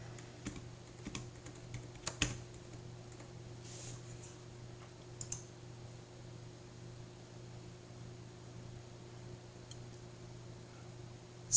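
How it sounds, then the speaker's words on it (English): Faint, sparse clicks of typing on a computer keyboard, a few scattered taps and short bursts over a low steady hum, with no talking. "Excuse my typing, I don't know how to type."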